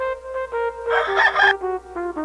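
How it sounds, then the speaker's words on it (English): A doorbell that sounds like a rooster crowing gives a loud, drawn-out call, with shorter tonal chirps before and after it, close and clear with no talking. "I think there's a rooster at the door, or something."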